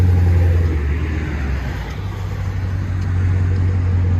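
A 2020 Dodge Challenger Scat Pack with a six-speed and a 3-inch MagnaFlow exhaust rumbles loudly and steadily nearby as it pulls away, a deep muted drone with no speech.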